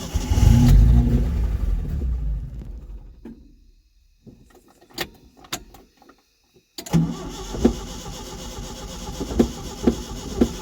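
A Datsun 620 truck engine cranks and sputters trying to start, a loud rough churning burst that fades into quiet with a few clicks, then resumes as a steady rhythmic cranking with pulsing peaks.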